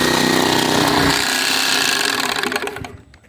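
An Express 508 bag sewing machine stitches shut a filled bag, a loud, steady mechanical whir with a rapid needle rattle that runs continuously before winding down and stopping near the end.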